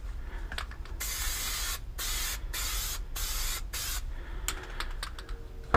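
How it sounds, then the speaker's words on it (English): An aerosol can of upholstery adhesive sprays in several long hissing bursts separated by short pauses, close and steady, while fitting out a tractor cab interior. "that takes care of the adhesive spray"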